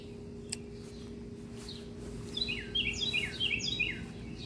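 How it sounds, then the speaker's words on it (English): A small bird sings a quick series of high chirps and trills, moderately distant, over steady outdoor background noise. "listen to that pretty bird"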